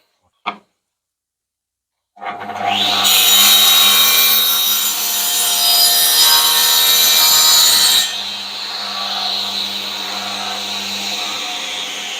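A saw cuts wood into small battens for a bench grinder stand, one sharp knock followed by a long, loud, steady rasp of the blade through the timber that eases off for the last few seconds.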